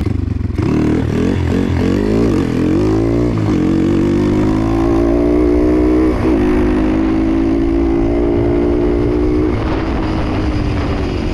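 A motorcycle is ridden hard at full throttle while practising wheelies, its loud close engine climbing in pitch, dropping briefly at each gear change, then pulling high and steady again.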